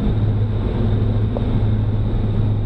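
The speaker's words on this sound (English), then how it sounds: "Actually making the combine work a little bit now." A New Holland CR9070 combine with a MacDon FD75 header harvests durum under heavy engine load, a loud, steady, low droning hum from inside the machine with some wind noise.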